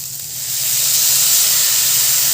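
Chopped tomatoes hit a hot pan and burst into a loud, dense hissing sizzle that swells after a brief moment and holds steady, close up with no talk.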